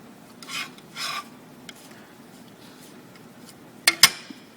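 A palette knife scrapes and rubs as it works linseed oil and pigment into a dense paint paste at the Gamblin artist colors factory in Portland, Oregon. Two rasping strokes come first, then quieter scraping, then two sharp louder scrapes near the end.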